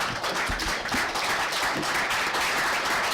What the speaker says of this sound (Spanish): Ese fue un espontáneo aplauso que salió